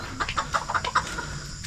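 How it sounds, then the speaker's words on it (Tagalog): Chickens cluck in a quick series of short, sharp calls, fairly close, with a bit of background noise around them. "May mga manok."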